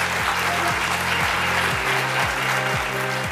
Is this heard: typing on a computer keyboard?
no